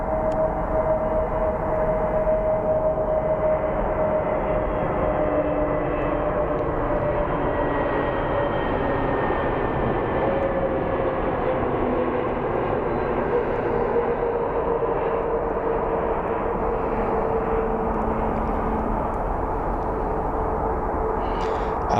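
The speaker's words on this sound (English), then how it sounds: "And we have a Frontier Airlines coming in." A Frontier Airlines airliner approaching to land at Phoenix Sky Harbor International Airport gives a constant, loud, broad engine roar with a faint whine drifting in pitch, steady throughout with no talking.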